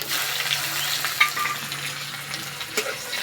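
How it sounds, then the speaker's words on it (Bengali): Sliced onions fry in hot oil with panch phoron and bay leaf, a steady close sizzle with a few light stirring clinks. "পেঁয়াজ হালকা লাল করে ভেজে নেব"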